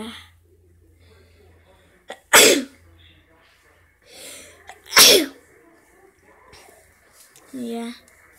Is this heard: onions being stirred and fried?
no